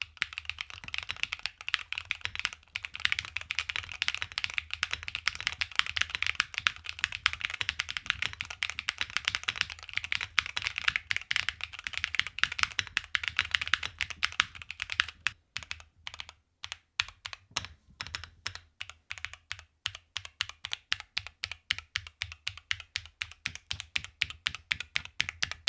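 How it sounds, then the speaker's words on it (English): Steady typing on a Keychron Q1 Pro mechanical keyboard with Gateron red switches: a dense run of crisp, fairly loud clacks that later slows into evenly spaced individual keystrokes, close up and without talking. "because of the way this keyboard is made, they feel a little bit louder than again your traditional red switch"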